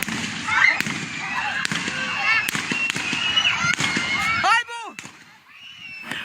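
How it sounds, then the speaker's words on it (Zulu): Gunshots fired at a school in Mgungundlovu: a string of sharp, loud bangs at irregular intervals, followed by a brief squeal, with voices in the background. "Emuva kwesikhashana kuzokale seqhuma isibhamu."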